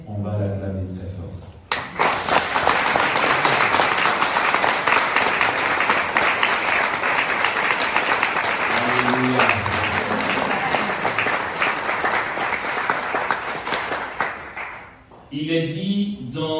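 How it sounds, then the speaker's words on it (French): A church congregation gives loud, sustained applause and clapping for about thirteen seconds. Brief speech is heard before and after it. "On va l'acclamer très fort."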